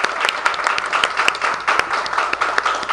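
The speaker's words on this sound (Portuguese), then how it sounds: "uma salva de palmas para as mulheres que estão aqui" A crowd applauds at a women's conversation circle, honoring the women present: dense, steady clapping from many hands fills the whole stretch, loud and close, with sharper individual claps standing out.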